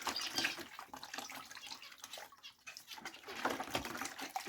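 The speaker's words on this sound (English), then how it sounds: "plop her into the bucket, and I just squidge the sponge" An aquarium sponge filter is squeezed in a bucket of water, giving soft, irregular sloshing and gurgling splashes close by for several seconds.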